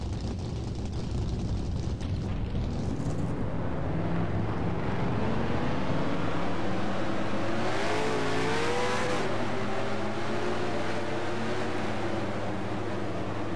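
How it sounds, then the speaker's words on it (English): Race car engines in the NASCAR Racing 2003 game at Charlotte Motor Speedway fire up and rev, building into a loud, sustained roar with rising, wavering engine pitch that fills the whole stretch. "Drivers, start your engines!"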